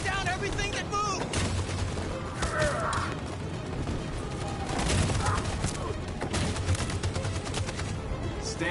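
Machine gun fire in the video game Detroit: Become Human, with rapid bursts and heavy booms mixed with shouting voices and battle noise, loud and continuous throughout.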